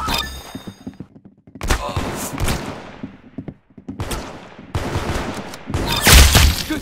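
Gunfire in the online shooter game Arsenal, sharp repeated shot bursts in several clusters with brief gaps, loud and close, with faint voices in between.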